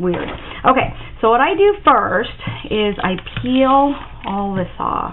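A dog barks, yips and whimpers in short bursts nearby while a person talks over it, the animal's calls rising and falling in pitch between and under the speech.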